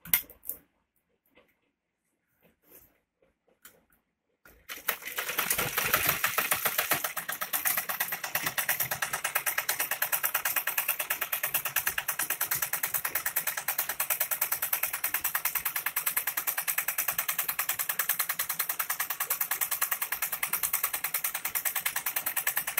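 Sewing machine stitching fabric along a peacock-style neck design runs loud and continuous with a rapid mechanical rattle after a few quiet seconds of faint handling sounds.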